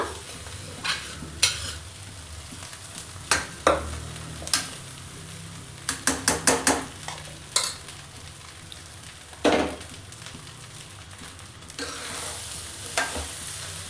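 Rice for egg keema rice is stirred in a frying pan, with sharp, irregular scrapes and clacks of the spatula against the pan over a faint steady sizzle, including a quick burst of several scrapes partway through.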